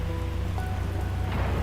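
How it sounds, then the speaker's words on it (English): Heavy rain pours down in the video game Endfield, a loud, dense, unbroken hiss of drops pattering on surfaces close around the listener, with no voices. "It's raining harder."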